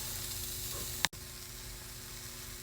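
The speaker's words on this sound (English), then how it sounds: "Going straight inside the hot pan. I love that sizzling sound." Carrots drop into a hot pan and sizzle, a soft steady frying hiss with a sharp click near the middle and no talk.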